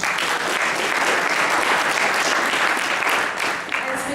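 Steady, full applause from a debate audience fills the room at a constant level, with a brief dip before it resumes.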